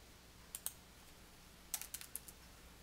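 Keys clicking on a computer keyboard while text is deleted in a word processor: a couple of isolated presses, then a quick burst of five or six taps, faint and close with no voices.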